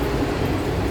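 Steady rumble and rolling hum inside an MRT train carriage at Ayala Station, continuous and fairly loud with no clear voices, the car's running noise filling the space.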